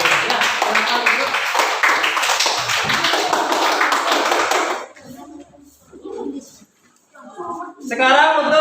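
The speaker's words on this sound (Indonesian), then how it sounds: "Berikan tepuk tangan untuk kelompoknya." A classroom group of students clapping for a group of classmates, a dense burst of applause for about five seconds, then quieter scattered sounds with a voice speaking.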